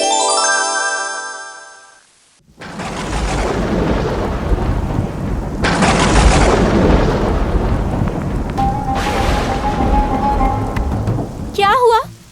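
Cartoon rain pours steadily with a loud rumble of thunder after a short musical jingle; a brief tonal chime rises near the end.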